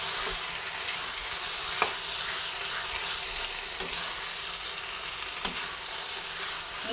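Sugar is stirred into Malabar spinach cooking with a hilsa fish head, giving a steady, close sizzle with soft scraping and a few sharp spoon taps against the pan.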